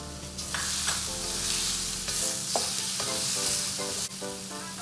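Ginger, galangal, bay leaves and lime leaves frying in a hot pan while being stirred, a constant loud sizzle with scraping stir strokes on top.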